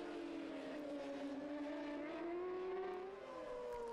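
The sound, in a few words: racing motorcycles at Ledenon circuit, Kawasaki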